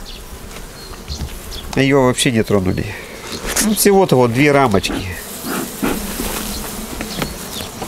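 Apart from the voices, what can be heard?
honey bees buzzing at a hive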